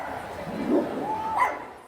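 Dogs barking and whimpering at a kennel club dog show in Canada, a few short yips and a whine in a busy hall with a murmur of voices.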